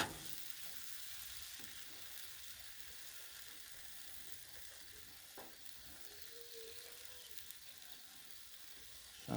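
Peach slices cooking on a buttered griddle give off a steady, soft sizzle and fry hiss throughout, with a few faint clicks and scrapes; no one speaks.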